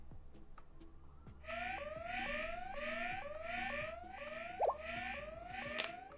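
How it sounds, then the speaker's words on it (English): Alarm going off in the video game Blue Archive: a repeating rising electronic siren tone, cycling about twice per second and holding steady at moderate volume over a low background hum. "Turn off the alarms."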